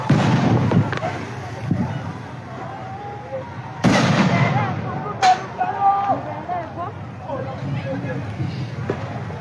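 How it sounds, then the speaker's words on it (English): Live gunfire rings out during a street confrontation with the Ugandan military, a few sharp loud cracks spaced seconds apart over crowd noise, with people talking and shouting throughout. "They are shooting live."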